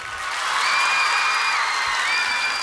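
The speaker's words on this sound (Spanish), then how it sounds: "Aplausan." Sustained studio audience applause on a 1989 Spanish-language television talk show, a dense, steady wash of clapping that swells and holds, with faint cheering mixed in.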